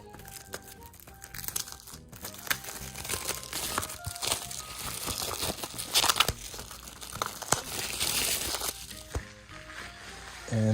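DVD packaging with a plastic wrap and a slip cover being opened, crinkling and crumpling plastic heard close up with sharp tearing bursts over about ten seconds, no talking.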